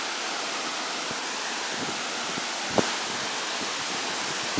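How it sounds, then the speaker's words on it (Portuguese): Waterfall at Flåm, Norway, heard from its foot as a broad, steady roar of falling water, loud and unbroken with a couple of faint knocks, no voices. "E aqui estamos no pé da cascata"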